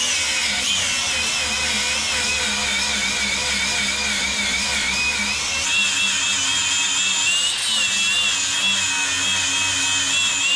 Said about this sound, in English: I'm just going to sand them tacks off